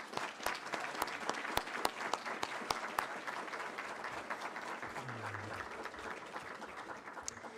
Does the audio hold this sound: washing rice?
no